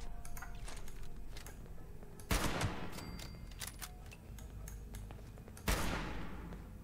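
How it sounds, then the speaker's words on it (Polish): In the video game Fallout 76, two loud, sharp gunshots ring out a few seconds apart against a backdrop of quieter clicks and game ambience. "A, niecelny strzał."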